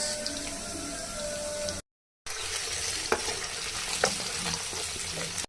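Coarsely chopped onions frying in oil for restaurant-style chicken chowmein, a steady close sizzle with occasional stirring clicks and a short silent gap partway through.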